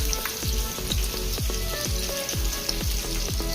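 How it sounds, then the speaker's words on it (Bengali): Garlic frying in hot oil for a curry of rohu fish and cauliflower, a loud dense sizzle with crackling spatters and repeated rhythmic scraping strokes throughout. "তেল দিলাইলাম, বিসমিল্লাহ হয়ে এখন রসুনও দিলাইলাম"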